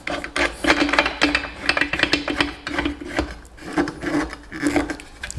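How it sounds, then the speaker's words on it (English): Wood piece being positioned and clamped on a Dewalt DWS773 miter saw: a run of close rasping, rubbing and scraping sounds with irregular rhythm, some mechanical clicks and squeaks, loud and alone without talking. "And that's our piece of wood. Clamped pretty firmly in place."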